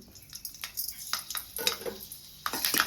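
Fenugreek seeds fry in oil in a pan for tempering, with a light sizzle under repeated metallic clinks and scrapes of a spoon stirring against the pan.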